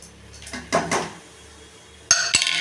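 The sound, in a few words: adding roasted gram to sesame and jaggery syrup in pan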